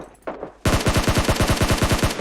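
A sudden burst of rapid automatic gunfire in a video game, loud and close, firing in a fast steady rhythm after a brief quieter moment.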